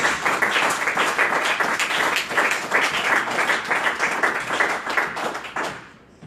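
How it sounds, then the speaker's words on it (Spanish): A church congregation claps loudly in a steady rhythmic burst for several seconds, close and full, then fades out near the end. "Denle una ofrenda de palmas fuerte a Dios."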